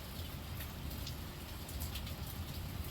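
Heavy summer thunderstorm rain heard through an open door, a steady dense hiss of downpour and patter on surfaces, fairly faint and continuous throughout, with no talking.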